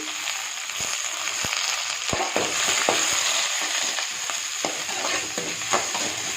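Dried red chillies and curry leaves sizzle hard in hot oil with onion, mustard seeds, urad dal and fennel for a chow chow masala kuzhambu tempering, a steady close crackle with scattered sharp pops and stirring.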